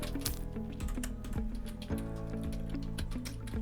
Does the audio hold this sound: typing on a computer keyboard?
yes